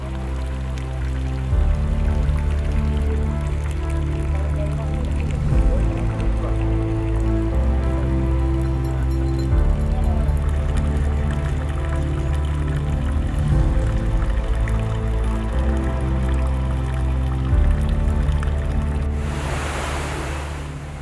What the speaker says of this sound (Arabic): وأسمع تدفق مياه الساقية